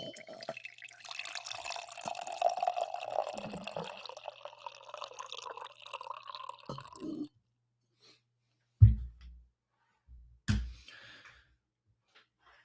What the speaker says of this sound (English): I'm going to pour some coffee while you guys tell me what to do with these next picks.